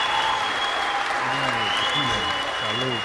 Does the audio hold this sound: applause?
yes